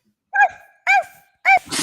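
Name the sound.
person imitating a dog barking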